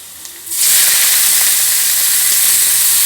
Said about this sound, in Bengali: এখন শাকগুলো বাগার দেওয়ার জন্য মাছ ভাজার কড়াইতেই পেঁয়াজ আর রসুন ভেজে নিয়েছি।